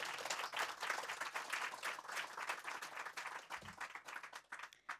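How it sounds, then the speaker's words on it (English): Applause from a seated audience at an Africa Day youth panel session, many hands clapping steadily and fairly far off for about five seconds, fading near the end. "give him a warm welcome, a warm applause for his work"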